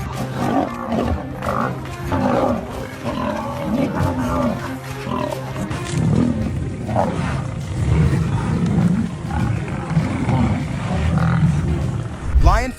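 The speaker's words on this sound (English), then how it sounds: "Clips open with a pride of lions brutally attacking a buffalo." A pride of lions attacking a buffalo in Africa gives deep, sustained roars and growls that rise and fall throughout, with a voice talking over the struggle.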